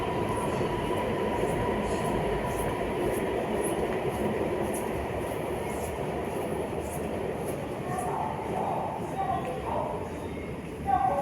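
Continuous rumble and rattle of an underground metro train in motion, with rhythmic clicks of wheels over track joints and a few faint squeals near the end.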